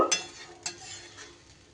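Spices and boiled gourd being stirred into fish curry (rohu) in a pot, a few scraping stirs with a soft sizzle underneath, close and fairly quiet.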